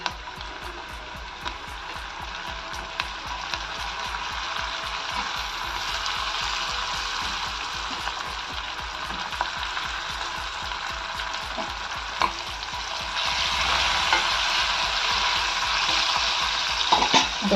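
Onions sizzling and frying in a pan for tomato salan, a steady crackling hiss with rapid ticking pops throughout, growing louder and brighter toward the end, with no talking.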